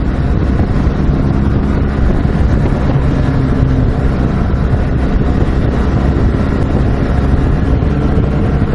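A 2016 BMW R 1200 GS Adventure motorcycle ridden at speed at Laguna Seca, Monterey, giving a steady, loud engine and road roar heavily mixed with wind buffeting, with no talk.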